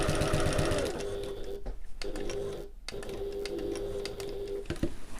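Sewing machine stitching a backpack seam, running in steady bursts with a brief stop as the fabric is pivoted, then stitching again, close and clear.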